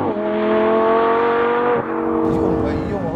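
Lamborghini Gallardo LP 560-4 (2013) 5.2-litre V10 on winter tyres, a smooth rising engine note under revs with a steady harmonic whine, then a shift and renewed pull, heard from inside the car.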